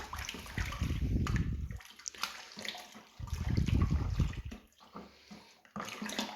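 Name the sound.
mixing lager brew ingredients with warm water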